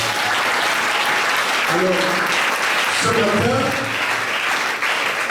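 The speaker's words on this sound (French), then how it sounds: "est-ce qu'on peut acclamer le Seigneur?" A church congregation at a prophetic service applauds and cheers for the Lord, a loud, steady wall of clapping throughout, with a voice briefly speaking over it.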